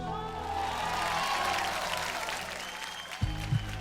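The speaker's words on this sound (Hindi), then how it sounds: "जोरदार तालियां हो जाएं" A crowd at a stage talent contest gives a contestant a warm round of applause, a dense, steady wash of clapping that swells and then thins, with a couple of loud thumps near the end.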